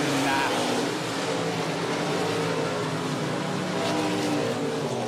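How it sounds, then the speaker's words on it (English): Limited modified race cars roar around the 105 Speedway oval in a steady, loud engine drone that swells and fades as the pack passes, with a commentator talking over it throughout. "We're back, limited modified racing."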